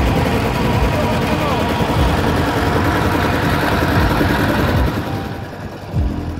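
A trawler's engine drones steadily as the boat moves along the edge of the Sundarbans beside the Bay of Bengal, with wind and a voice over the constant rumble, which eases slightly near the end.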